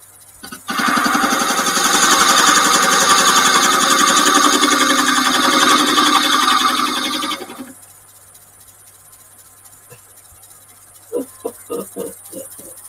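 A lathe chisel cuts an old red gum post on the lathe with a loud, steady chattering grind for about seven seconds. The machine then quiets to a low hum, followed by a few faint knocks.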